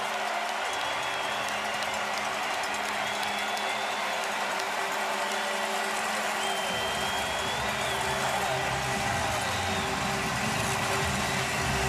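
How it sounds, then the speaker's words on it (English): Crowd noise swells and holds in a football stadium after a Montreal Alouettes touchdown against the Toronto Argonauts, a dense wash of cheering and shouting that fills the whole stretch without a break. "This crowd just woke up."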